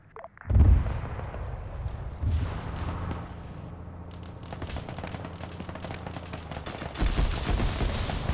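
Grenade machine gun fired from an MRAP in a military video game, heavy booming bursts with a thump near the start and a rumbling rattle of impacts running through, louder again toward the end.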